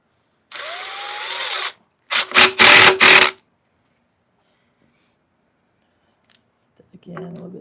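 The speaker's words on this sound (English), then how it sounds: "these screws fastened in" Power drill driving screws into a lathe face plate: two bursts of motor whine, the second broken into several quick pulses, then silence and a few faint shop noises.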